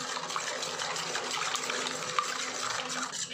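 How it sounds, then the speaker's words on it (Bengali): Water pours steadily into a bowl of semolina and gram flour, making a close, continuous splashing rush that lasts a few seconds. "এখন আমি এই সুজি আর বেসনের ভিতরে দিয়ে দেবো একই বাটি মেপে 2 বাটি জল।"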